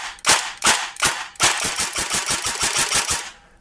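An airsoft gun with a MOSFET, pre-cocking and a clicker fires three single sharp shots, then a rapid full-auto burst of clattering reports, loud and close with no talking.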